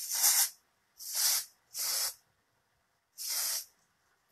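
Dry shampoo sprayed from an aerosol can in four short hissing bursts, each about half a second long, with brief pauses between them, close and fairly soft.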